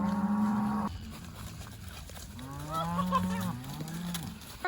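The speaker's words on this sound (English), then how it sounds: "The cattle herd." Several cows moo in overlapping, drawn-out calls, one after another, moderately close over a faint background hum.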